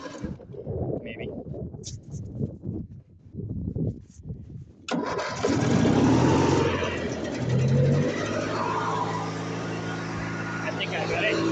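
A truck engine starts with a sudden catch and settles into a loud steady run with some revving, after someone talks in the quiet beforehand.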